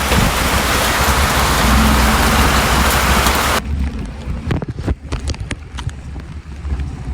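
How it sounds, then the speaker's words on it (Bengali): Light drizzling rain at the start of the monsoon, heard outdoors on a road on the way to school, with dense, steady patter that cuts off partway through. Sparser drops and rustling follow. "বৃষ্টি পড়ছে কি ঝিরি ঝিরি, আমরা ভিজে যাচ্ছি স্কুলে"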